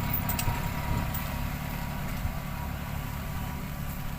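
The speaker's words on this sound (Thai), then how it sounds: "โดยใช้ เครื่องจักรขนาดเล็กนะครับ โดยใช้รถไถนั่นแหละครับ" A small farm tractor engine runs steadily while spraying herbicide, a constant low rumble with a droning hum, heard alone without speech.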